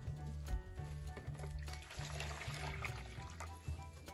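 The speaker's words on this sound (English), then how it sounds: "So first you're gonna pour 3 cups of water." Three cups of water poured into a bowl to make frozen bubble mix, a steady splashing, trickling stream heard close and quiet, with brief soft thuds.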